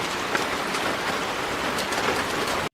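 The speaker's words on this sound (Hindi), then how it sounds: "कुछ दिनों बाद गांव में तेज बारिश हुई।" Heavy rain pours down steadily over a village, a dense, even hiss of falling water that holds at a constant loud level throughout with no voices.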